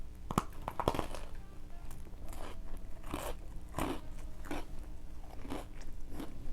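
Captain Crunch cereal with milk crunched and chewed close up, a steady run of loud, crisp bites and mastication with no talking.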